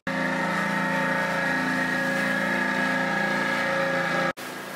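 A steady, loud motorboat engine drones close by with a high buzzing whine, holding constant before cutting off abruptly near the end.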